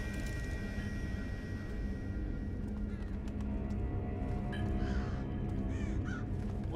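A crow-like bird caws repeatedly in the stealth game Thief, its harsh calls rising over a steady bed of ambient game sound and distant hoofbeat-like clatter.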